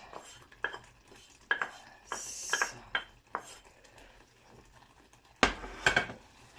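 Onions, garlic and chili going into a pot of simmering dal curry, with a metal spoon clinking and scraping against the pan, then a louder clatter near the end, close and fairly quiet, with no talking.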